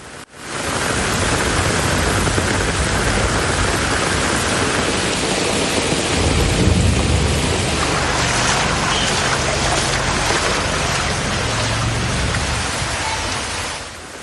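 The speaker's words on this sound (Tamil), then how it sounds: "புதுச்சேரி பிராந்தியத்திற்குட்பட்ட ஏனாமில் கனமழை கொட்டி வருகிறது." Heavy rain pours down steadily in Yanam, Puducherry, a dense, loud, continuous hiss of downpour that stays constant throughout with no voices.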